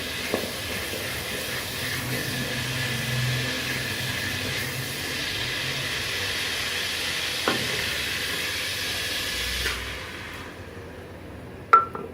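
Cumin powder and blended masala sizzle and fry steadily in a pan for taro root curry, a continuous close hiss that thins out near the end, followed by a couple of brief utensil clicks.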